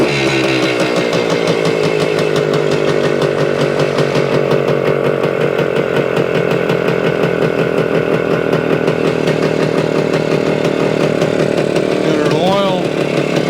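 A Suzuki TS-250 motorcycle engine idles steadily and loudly throughout, a continuous buzzing drone with a brief rev near the end, while people talk over it.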